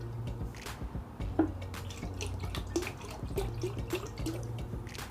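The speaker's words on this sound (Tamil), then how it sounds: "இப்போ பேலன்ஸ் நம்ம எடுத்து வச்சுருக்க 1/2 லிட்டர் தண்ணியும் சேர்த்துடலாம்." Water trickles and drips into buttermilk in a container in small, irregular splashes over a low, steady background hum.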